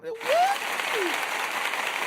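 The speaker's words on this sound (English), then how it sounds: "You get a heavy metal applause." A heavy metal applause sound effect: a sudden burst of crowd applause and cheering, opening with a rising whoop, then a steady wash of clapping that holds until the end.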